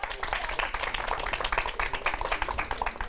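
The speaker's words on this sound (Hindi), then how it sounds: "तालियों के साथ हौसला बढ़ाइए उसका।" An audience bursts into sustained, dense applause to cheer on a friend in a studio crowd, the claps thick and steady throughout, with no speech over them.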